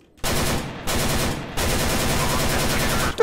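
AK rifle fire in Counter-Strike: Global Offensive comes in three loud, close bursts of rapid automatic shots, short gaps of silence between them and the final burst running longest.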